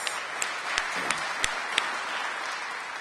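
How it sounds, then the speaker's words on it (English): A crowd at a city announcement event applauds after a speech, a steady moderate wash of clapping with a few sharper individual claps standing out, continuing evenly throughout. "Give Dylan another round of applause"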